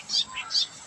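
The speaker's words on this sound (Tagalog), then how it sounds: "Saka marinig mo dito mga nilang ibon." Small birds chirping outdoors along a path by leafy kangkong and sweet potato plots, a few short bright tweets close together over quiet air.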